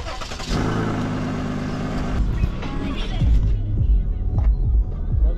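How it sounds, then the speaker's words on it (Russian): A car engine cranks and catches, then settles into a steady, throbbing idle close by, with a voice speaking over the running engine. "Запустите двигатель."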